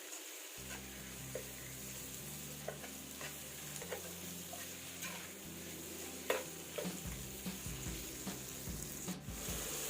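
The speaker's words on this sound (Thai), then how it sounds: "ผัดไปให้หมูเราสลดเลยนะครับ" Pork cartilage stir-fries in a pan with a low, continuous sizzle and repeated scraping, rubbing stirs, quiet and close, while background music plays underneath.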